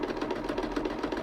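A sewing machine stitches a rope coaster, its motor humming in a steady, fast rhythmic pulse throughout, close and continuous with no talking.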